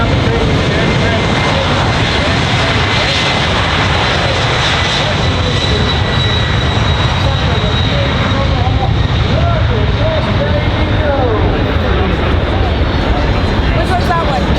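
Four General Electric engines of a C-5M Super Galaxy winding up at an airshow roar loudly and continuously, a dense broad rumble with a high whine holding steady throughout.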